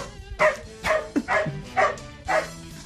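A man imitates a dog with his voice, giving about five evenly spaced woofs and barks, close and loud, with a lower growl-like sound between them on a radio morning show.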